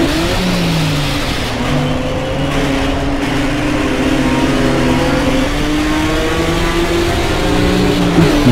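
Race car engine in the RaceRoom sim racing game, revving loudly and continuously with rising and falling pitch through gear changes, steady and close with no pauses.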